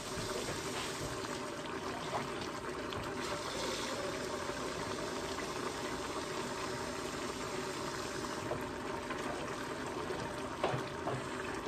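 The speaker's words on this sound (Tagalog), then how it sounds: "dagdagan natin ng sabaw kasi naubusan ng sabaw" Broth pours steadily into a pot of simmering chicken tinola with papaya and pak choi, a continuous close watery trickle and splash with light bubbling underneath, lasting the whole stretch without talk.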